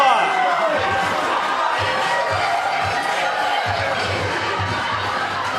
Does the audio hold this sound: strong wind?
no